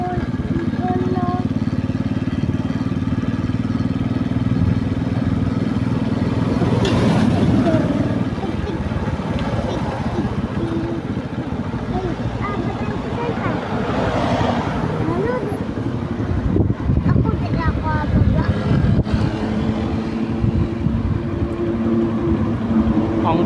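A motorcycle engine rumbles and revs nearby under ongoing talk, with passing traffic noise around it.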